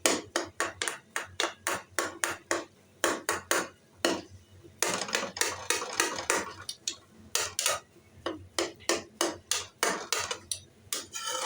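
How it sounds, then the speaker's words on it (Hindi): A metal spoon strikes and scrapes a pan in quick rhythmic clinks while mixing suji halwa ingredients, nearby and fairly loud, with a brief softer scraping stretch in the middle. "तो अब चम्मच लेकर इसको भी आपने इस तरह से मिक्स करना है"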